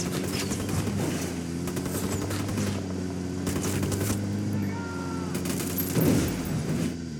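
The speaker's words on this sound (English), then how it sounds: "Opening fire." Rapid gunfire crackles in bursts in the video game Ghost Recon Wildlands, moderately loud over a steady low engine hum, like a helicopter or vehicle, with no talk.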